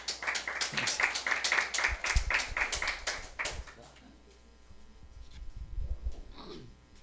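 A congregation at a Korean teen worship service claps together in a loud burst of applause that stops after a few seconds. Quieter room noise and faint voices follow.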